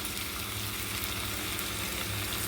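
Chopped tomatoes and prawns fry and get stirred in a hot pan, giving a steady, dense sizzle that runs unbroken with no talking.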